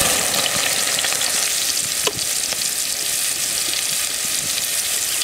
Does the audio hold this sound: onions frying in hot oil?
yes